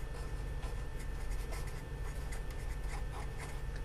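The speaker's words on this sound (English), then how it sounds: "I'm just going to write for the Y column" Marker or chalk writing on a classroom board for a math lesson, a series of short scratchy strokes with brief pauses, close and moderately quiet over a low hum.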